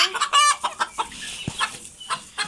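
Chickens, including silkies, cluck in quick, uneven bursts close by, with a white rooster's sharper calls mixed in; no one speaks.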